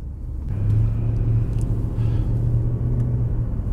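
Mercedes E63 AMG W211 with its naturally aspirated engine accelerating, a deep steady rumbling drone heard from inside the car, rising and holding at a strong level without talk.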